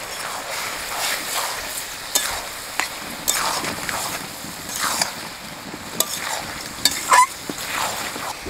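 A spatula stirs fried potatoes and green peas with cabbage in a pan, giving repeated scraping strokes in a loose rhythm over a low, continuous sizzle, close and fairly loud.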